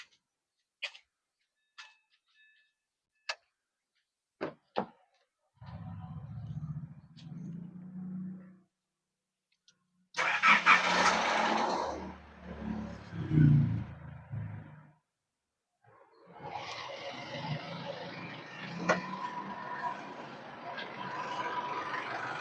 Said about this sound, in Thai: หลังจากทำการล้างแล้วก็สตาร์ทรถ